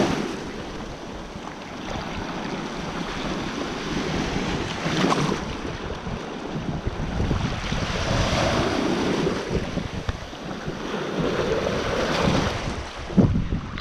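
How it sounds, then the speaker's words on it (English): Ocean waves wash onto a European beach, surging and receding in a steady rush, with strong wind buffeting the microphone throughout. "The waves are quite nice"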